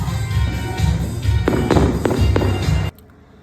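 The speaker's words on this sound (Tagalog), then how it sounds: "may nagpapaputok, guys. Oh, fireworks." Fireworks at a resort in Laguna bang repeatedly in a dense, crackling volley, sharp pops layered over a rumbling boom, then stop abruptly into near silence.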